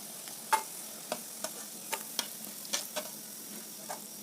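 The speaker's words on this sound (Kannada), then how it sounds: "ಗ್ಯಾಸ್ ಸಣ್ಣಗಿಟ್ಟ ಕರಿಬೇಕು ನೋಡ್ರಿ" Badam puri deep-frying in oil over a low gas flame, a soft continuous sizzle broken by small pops and bubbling crackles, close and without speech.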